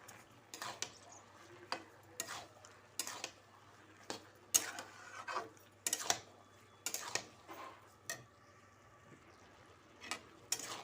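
A spoon stirring grated carrot halwa with coarse sugar in a pan, giving repeated scraping clacks in an irregular rhythm, close and fairly quiet, with no talk.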